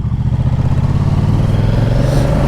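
Moto Guzzi V100 Mandello motorcycle engine running while riding, a loud, steady pulsing drone with a rapid rhythmic throb and slight rise in pitch, close and continuous with no talk over it.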